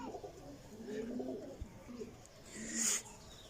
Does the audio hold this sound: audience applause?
no